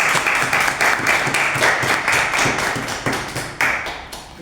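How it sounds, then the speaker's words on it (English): A room full of people at a Toastmasters club meeting applauds steadily, a dense patter of clapping at close range with rhythmic accents, no voices over it. "a round of applause for Toastmaster Shubham"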